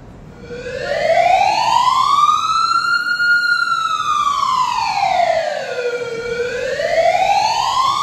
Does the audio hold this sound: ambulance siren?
yes